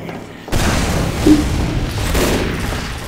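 Gunfire and booms in a team shooter match at a Hakurei Shrine map, a sudden loud burst then ongoing rattling shots and impacts with a faint voice in the mix.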